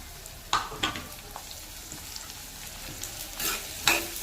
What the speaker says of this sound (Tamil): வெங்காயம் நல்லா வதக்கிக்கலாங்க